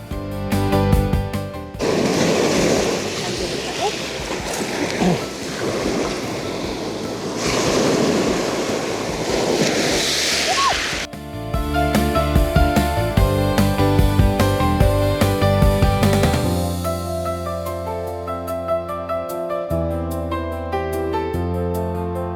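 Ocean waves break at Seonnyeobawi Beach in Eulwang-ri, Incheon, a loud, steady wash of surf with wind rush for about eleven seconds, then giving way to music.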